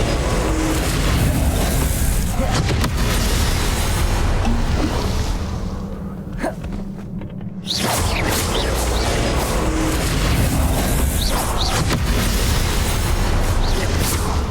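Spell blasts and explosions from the Hogwarts Legacy video game, a dense, continuous barrage of booming bursts and whooshes that briefly thins out partway through before the loud fighting resumes.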